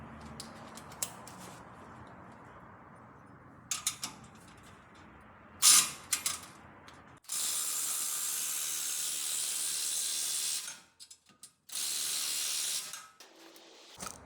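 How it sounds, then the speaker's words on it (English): A Milwaukee M12 impact driver fitted with a wobble extension works on a 2020 Ford F150 lift-kit suspension, giving two sustained loud bursts of rattling hammering after a few brief clicks and short mechanical noises. "We'll switch out to the wobble extension on the M12 impact driver."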